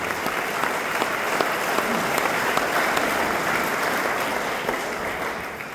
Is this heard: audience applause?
yes